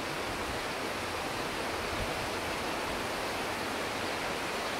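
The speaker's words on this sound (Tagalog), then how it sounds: "Ayan ang sapa guys." Steady rushing water of a stream at an inland resort in the Philippines, a continuous broadband wash that stays even and close throughout with no talk.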